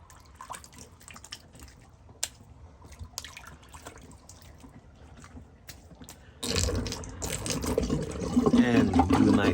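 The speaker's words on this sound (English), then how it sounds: "All right, let's empty good old Sigmund the Sea Monster sink." A sink is emptied while shaving, and water drains and gurgles steadily at close range, starting softly with small drips and then growing into a louder rushing flow near the end.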